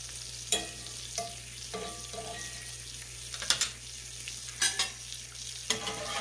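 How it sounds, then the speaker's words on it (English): Butter melts in a hot pan beside a grilled Reuben sandwich, giving a soft steady sizzle with occasional sharper clicks and scrapes of a utensil, no talking. "I'm taking a half a teaspoon of butter and I'm just going to put it right down in here so it melts"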